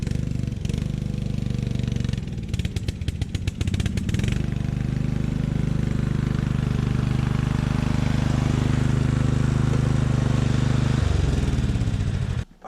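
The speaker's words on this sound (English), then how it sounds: "this lawn tractor's running pretty well now" A small lawn tractor engine with a dirty carburetor runs steadily and loudly close by, rattling unevenly at first, then settling into an even idle hum before it cuts off at the end.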